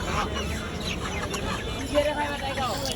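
Several chickens cluck and squawk at a busy poultry market, with background chatter and bustle.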